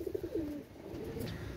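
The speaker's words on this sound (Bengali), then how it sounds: "আর যেটা ডাকতেছে এটা হচ্ছে ইন্ডিয়ান একটা কবুতর" An Indian pigeon gives a short, soft coo, a few low throaty pulses close by in a quiet loft, with no talking over it.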